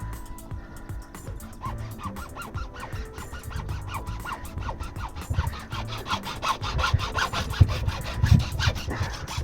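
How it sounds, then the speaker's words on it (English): Blade sawing through a split rubber through-hull hose on a boat, quick rasping strokes in an uneven rhythm with squeaky honk-like scrapes, close and moderately loud. "So I'm just gonna cut off maybe about an inch to get back to where the rubber's not splitting"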